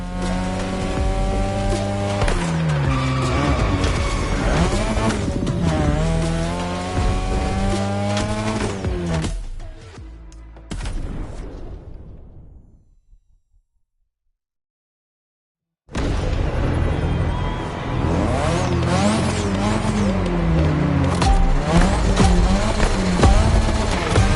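Engine roar from a car on a touge mountain run in The Crew Motorfest, loud and continuous with pitch sweeping up and down through gear changes, cutting out to near silence midway before resuming at full volume.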